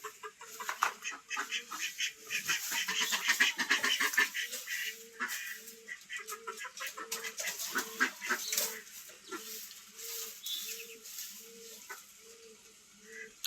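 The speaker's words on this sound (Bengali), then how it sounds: "ঘরের থেকে বের হয়ে আসলে হাঁসটা।" Domestic ducks give repeated nasal quacks from close by, in short bursts with brief pauses, over a faint rustling background.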